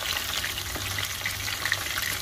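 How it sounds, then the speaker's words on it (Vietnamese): Oil sizzles and crackles steadily as fish fries outdoors, a continuous hiss with scattered pops, close and without talk. "Đây mình chiên ở ngoài trời nè."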